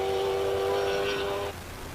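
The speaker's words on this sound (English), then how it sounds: "let's just enjoy the symphony of a Ferrari V8." A classic Ferrari V8 racing up a hillclimb course, a loud high-revving wail with a clear tonal scream that cuts off sharply after a second and a half, leaving lower rumble.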